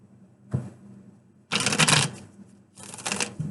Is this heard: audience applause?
no